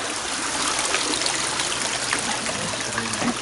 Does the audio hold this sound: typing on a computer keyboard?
no